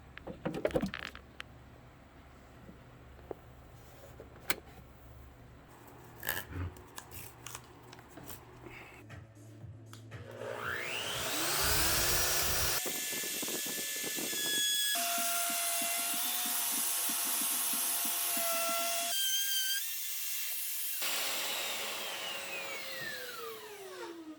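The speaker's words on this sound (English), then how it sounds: "I just routed a little disc here" A Festool 2200 router cutting a small disc with dust extraction attached: scattered clicks and handling first, then a loud steady motor whine with shifting pitch and a vacuum-like hiss, spinning up and cutting off in sections.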